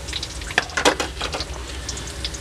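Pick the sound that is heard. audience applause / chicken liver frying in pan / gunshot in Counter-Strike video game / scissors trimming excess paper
chicken liver frying in pan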